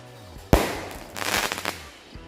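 Fireworks and firecrackers going off on Takbiran night during Ramadan: one sharp loud bang, then a dense crackling burst of small pops, close by, with no talk.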